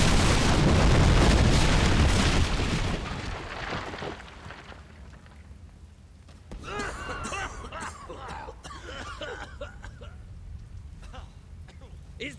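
A loud, sustained explosion from the Fable 3 video game roars broadband for about four seconds, then fades into a quieter rumble as voices talk over the aftermath.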